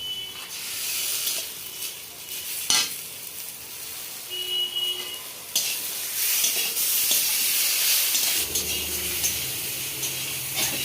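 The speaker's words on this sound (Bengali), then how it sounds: "বেগুন বেগুন ভাজা হয়ে গেছে আমি লঙ্কা পেঁয়াজটা দিয়ে দিচ্ছি" Fried eggplant sizzling in oil as chili and onion are added, a close, continuous hiss with stirring scrapes and a few sharp clicks, no talking.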